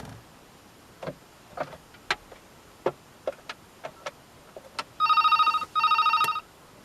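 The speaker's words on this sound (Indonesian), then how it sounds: "Saya akan memanggil ke pesawat telepon yang ini." After a series of soft clicks and taps, a landline telephone on a phone line monitor rings twice in trilling bursts, close and clear.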